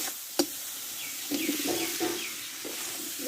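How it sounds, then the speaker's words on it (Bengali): Fried potatoes and watermelon rind go into a pan of sizzling spiced masala, giving a soft, steady frying hiss with a few light clinks and scrapes of stirring. "এবার ভেজে রাখা আলু তরমুজের খোসাটা আমি এতে দিয়ে দেবো"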